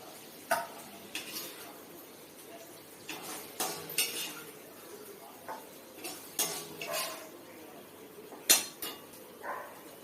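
Okra curry being moved into a serving dish in a home kitchen, with a string of separate light clinks and scrapes of metal utensils against cookware, irregular and close, with no talk.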